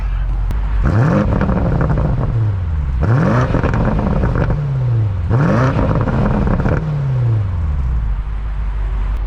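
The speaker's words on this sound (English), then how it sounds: "let's do some exhaust shots. Let's get exhaust in here." BMW M850i 4.4-liter twin-turbo V8 exhaust recorded close up: three sharp revs in a row, each snapping up in pitch and then sliding back down to idle.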